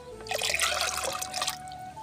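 Water poured from a roughly one-litre mug into a container, a short close splashing trickle lasting about a second and a half before trailing off.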